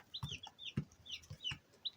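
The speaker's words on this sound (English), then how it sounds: "Yes, my chicken." Black and white chickens cluck and call inside a coop, a run of short close clucks with a few higher squawks scattered irregularly across the moment, no voices.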